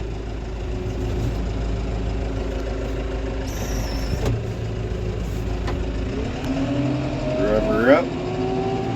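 The engine of a snow-blowing vehicle parked in a driveway idles with a steady low rumble. A person talks over it, and the engine note rises briefly near the end.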